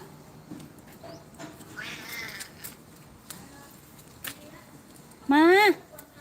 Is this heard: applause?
no